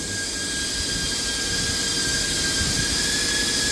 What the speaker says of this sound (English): I'm going to go ahead and move the machine back and make this cut